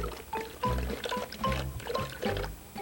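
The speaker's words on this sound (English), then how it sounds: "It kept on pouring out the water." Water pours out of buckets as a storybook sound effect, a run of splashing, gurgling glugs that come in uneven surges at close range.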